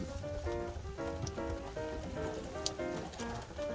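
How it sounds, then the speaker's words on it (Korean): Steady rain falls on the East Sea coast, a continuous hiss of drops on surfaces running throughout, with a faint musical tone mixed in behind it. "비가 좀 수그러들었고"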